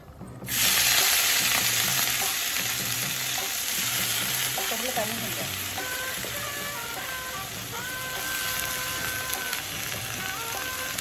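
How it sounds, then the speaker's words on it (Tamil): Potatoes fry in a pan in a home kitchen with turmeric and chili powder added, giving a loud, steady, close sizzle that runs throughout with light stirring and scraping on top. "அடுத்து உருளைக்கிழங்கு வறுவல்."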